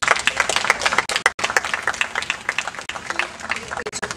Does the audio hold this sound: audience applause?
yes